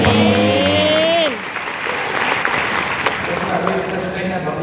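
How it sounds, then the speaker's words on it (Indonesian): A church congregation breaking into loud, sustained applause after a speaker's amplified voice, the clapping filling the room with scattered cheering and a voice heard over it. "Tepuk tangan yang paling meriah."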